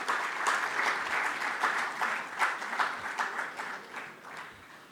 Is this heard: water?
no